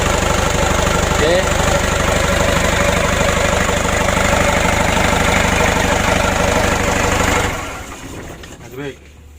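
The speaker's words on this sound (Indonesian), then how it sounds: "Nanti kita panasi dulu mesinnya dan kita setel." Diesel engine fitted with a Bosch injection pump runs at a steady idle with a continuous knocking rumble, then drops off sharply near the end with a brief faint sound after.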